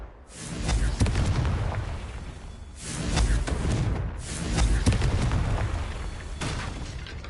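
Confringo blasting curse explosions in the video game Hogwarts Legacy, three loud booming blasts in a row, each with a crackling rumbling tail that fades before the next hits.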